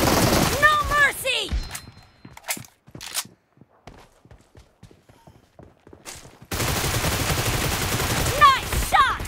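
Gunfire in PUBG Mobile on a training map: a rapid series of sharp shots at varying loudness between denser passages of game sound and sweeping tones, with scattered footsteps.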